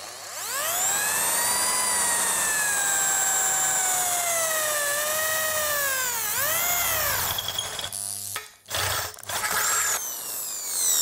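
A Dongcheng electric drill with an 8 mm bit bores into iron, its motor whining loud and steady with a rising and dipping pitch, then sputtering into short bursts as the bit bites and stops.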